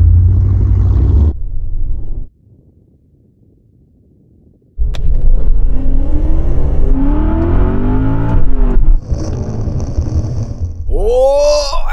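A BMW E39 M5 and an Alpina B10 race 400 metres from a rolling first-gear start, loud engines cutting out, then roaring back as both cars accelerate hard through rising gear pulls, ending in a final high-revving whine.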